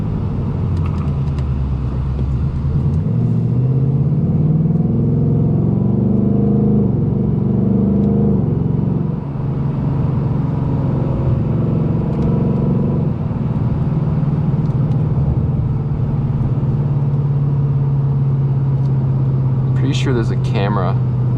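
A 2024 Ford Mustang GT V8 rumbles steadily while being driven at night, a deep, continuous engine drone that swells and eases with throttle under someone talking for much of it.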